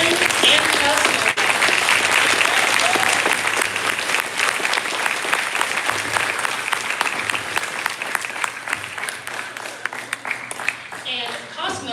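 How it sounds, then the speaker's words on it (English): A school concert audience gives a big round of applause for the All Region Jazz Band students, loud sustained clapping with some crowd noise that gradually tapers toward the end. "I would like a big round of applause for these students who made the All Region Jazz Band"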